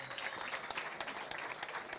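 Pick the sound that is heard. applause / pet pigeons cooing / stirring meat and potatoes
applause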